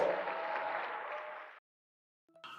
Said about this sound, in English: one more time, round of applause for Daymond John